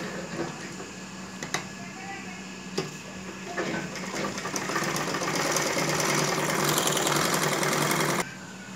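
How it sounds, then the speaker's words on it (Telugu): A sewing machine stitches lining onto a dress with a continuous close mechanical whir and rattle that grows slightly busier before stopping abruptly. "ఇప్పుడు మనం చుట్టూ లైనింగ్ను జాయింట్ చేసుకోవాలి"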